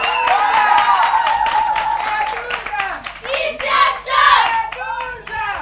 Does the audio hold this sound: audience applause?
yes